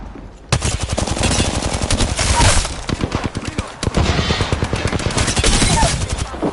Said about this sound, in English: I'm taking shots. Getting shot at.